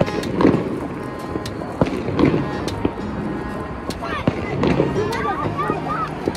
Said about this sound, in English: Firework time. Boom, baby.